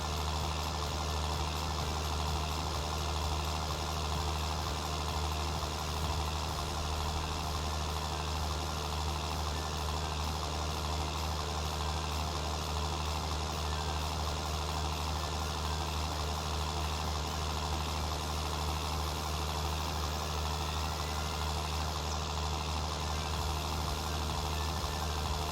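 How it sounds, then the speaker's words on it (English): Tractor engine labouring up a hill in Farming Simulator 19 on a Pacific Northwest map, a steady low idling-like rumble that holds constant and fairly loud throughout, with no talking. "this tractor doesn't half like to creep up this hill"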